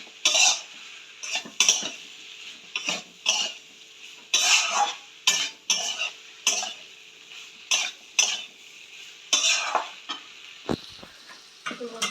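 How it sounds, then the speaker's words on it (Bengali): Partly fried potatoes being stir-fried in a pan for a prawn, radish and eggplant curry, with irregular metal utensil clanks and scrapes against the pan over a faint sizzle, close by, plus a brief cough. "আলুগুলো একটু ভাজা আছে তাই এখন বেশি কষতে লাগবে না"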